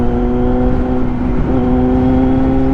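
Steady idle and light revving of a Honda CB500X touring motorcycle, a continuous close engine drone with a brief dip in pitch midway and no talking over it.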